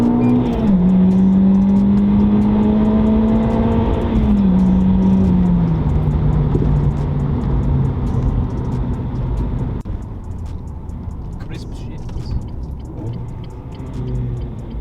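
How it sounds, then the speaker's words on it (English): A Renault Clio RS 200 MK3 Cup engine drones loudly from inside the car, its pitch climbing and then dropping at each gear change before settling into a steady rumble, with no one speaking. "the car's really nice, like shift and downshift. It rev matches quite nicely"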